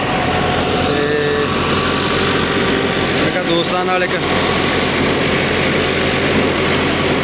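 A loud, steady mechanical roar of a thresher driven by a Massey Ferguson 375 tractor runs throughout without letup, with a voice briefly heard over it.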